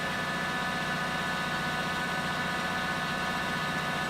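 A farm tractor engine runs with a continuous low, droning rumble and a constant hum, holding steady and fairly loud throughout without clear revving.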